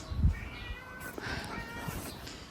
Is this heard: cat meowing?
yes